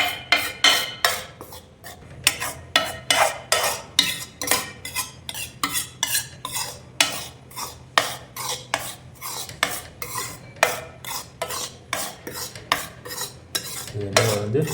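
Laddu mixture being stirred and roasted in a pan, with a spoon scraping and clinking against the metal in a steady, rhythmic series of strokes, close and fairly loud, with no talking.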